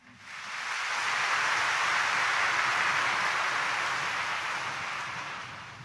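A church congregation at a Quiapo mass breaks into sustained applause, a dense wash of clapping that swells within half a second, holds steady for several seconds and tapers slightly toward the end, with no talking over it.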